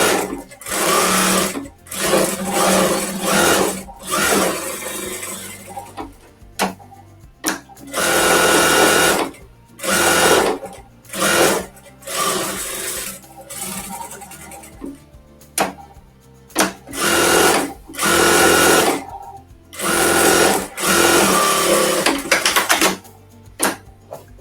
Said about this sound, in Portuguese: a gente costura pelo lado direito, uma costurinha na beirada